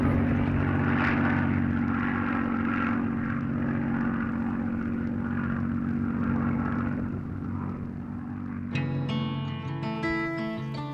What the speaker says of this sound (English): we catch the unmistakable sound of a Merlin engine overhead